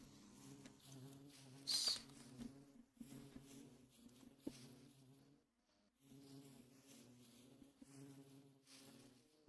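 Bees buzz in Minecraft with the ATM10 modpack, a soft, steady droning hum that fades briefly midway and then returns.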